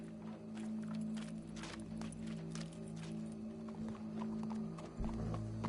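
Rhythmic horse hooves clip-clopping at a walking pace in the video game Red Dead Redemption 2, close by, over a low steady hum, with a heavier thud near the end.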